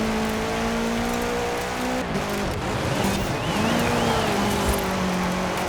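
Racing car in Forza Horizon 4 in winter, sliding round a corner on a dab of e-brake, heard as a steady loud engine drone with a tone that dips and wavers, under continuous hiss.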